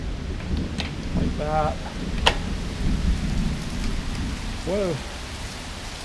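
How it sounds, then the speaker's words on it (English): Steady outdoor rain patters down just as it begins to fall, a continuous hiss beneath a voice as he shows off a folding electric bike. "it just started to rain, of course"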